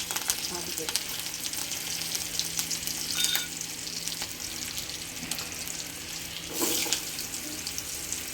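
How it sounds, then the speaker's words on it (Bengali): Chillies hitting hot tempering oil in a home kitchen pan give a steady, close, hissing sizzle with a few brief louder crackles, no talk over it. "দেখো লঙ্কা দিয়ে দিয়েছি ফোড়নে"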